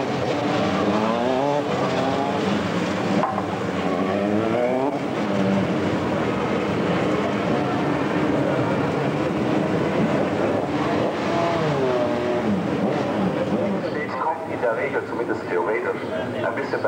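Formula 3 race cars of the 1995 German championship race at Hockenheim, engines droning and rising through gears as they pass, under continuous commentary.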